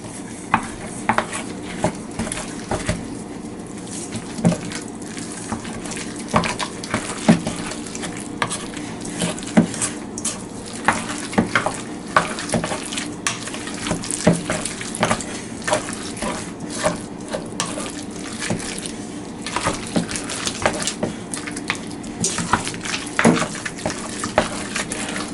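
Pizza dough being mixed by hand in a bowl for a pocket pizza, giving steady scraping, clinking and stirring sounds throughout at close range with no talk.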